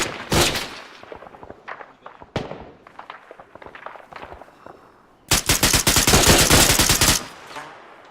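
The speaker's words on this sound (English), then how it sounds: "I hear shots." Sharp gunshots in the video game Arma 3 crack in scattered bursts, then a sustained rapid volley of automatic fire rattles loudly before cutting off.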